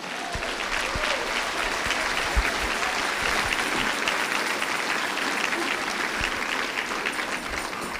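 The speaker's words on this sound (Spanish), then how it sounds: "Si lo crees, dale un aplauso fuerte al Señor." A church congregation breaks into strong, sustained applause for the Lord, dense clapping holding steady throughout at close range with no talking over it.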